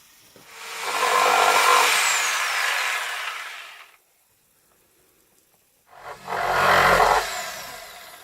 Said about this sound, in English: Now he's just cutting the notches for that